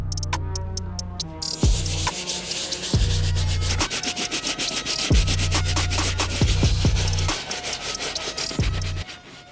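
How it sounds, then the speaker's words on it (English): Steady scrubbing of a soft bristle brush against the uppers of a Nike SB Dunk shoe, close and continuous, with rhythmic back-and-forth strokes and occasional knocks; no speech. "We're gonna be using our soft bristle brush to hammer the uppers."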